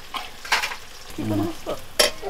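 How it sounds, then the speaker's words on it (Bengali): Onion fries in hot oil in a pan while a utensil stirs it, giving soft scraping strokes over a light sizzle, with a brief faint voice partway through. "এখন নাড়া দিলাম, এখন পেঁয়াজ দিলাম, ভাজা ভাজা হবে"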